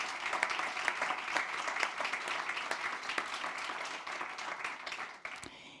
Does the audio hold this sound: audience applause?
yes